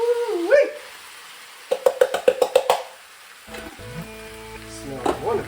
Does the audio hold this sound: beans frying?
yes